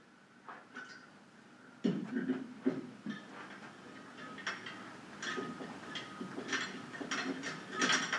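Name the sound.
light fixture being screwed into threaded socket and locked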